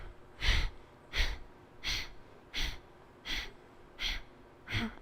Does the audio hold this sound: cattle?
no